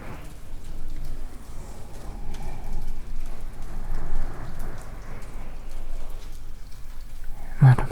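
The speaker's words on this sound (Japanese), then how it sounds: "窓の外の雨も 静かに続いている。" Steady rain falls outside a window, heard up close in a quiet room with a binaural microphone: a continuous soft patter with faint low rumbling, and a brief small tap near the end.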